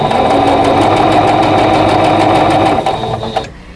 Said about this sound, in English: we're going to sew the first 2 pieces of the unit together that are on the top row